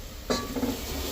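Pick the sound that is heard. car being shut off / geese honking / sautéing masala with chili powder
sautéing masala with chili powder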